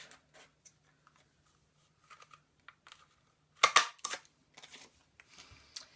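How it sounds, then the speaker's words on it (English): Scissors cutting white paper for a handmade baby card, with sparse small snips and paper rustles building to a louder burst of close crinkling and cutting midway, then lighter handling noises. "So I'll cut some white out."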